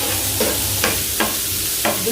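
Salmon frying in a pan for a crispy-skin recipe, with a steady close sizzle broken by a few soft stirring or scraping knocks.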